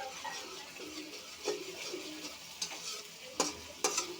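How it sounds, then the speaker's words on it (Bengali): Spice paste being stirred and sautéed in oil for a rohu fish curry with potato and pointed gourd, a faint sizzle broken by periodic scraping strokes of the spatula and a few sharp clinks. "মশলাটা ভালোভাবে কষিয়ে নেব"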